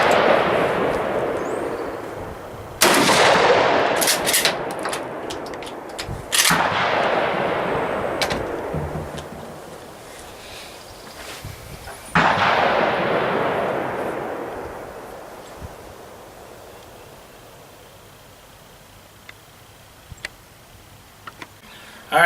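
Three loud shotgun blasts from a 20 gauge with a cut-down barrel and no choke, fired at a target 25 yards away outdoors, each sharp report trailing off in a long echo, with quiet gaps between shots.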